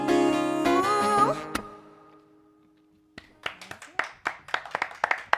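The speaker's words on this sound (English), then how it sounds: "Live hand clap right there" A few live hand claps ring out in an irregular, sparse burst right after a snippet of sung music stops, close and dry in a small studio setting.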